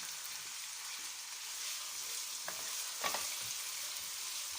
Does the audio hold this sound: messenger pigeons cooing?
no